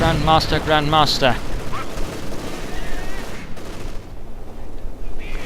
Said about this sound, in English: ISU-152 gets off a nice hit.